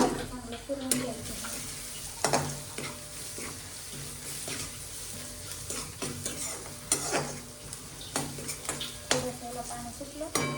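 A spatula stirs a vegetable curry of val bean pods in a pan just after coriander powder goes in. Repeated scraping and metallic clinks sound over a low, steady sizzle, fairly quiet and close.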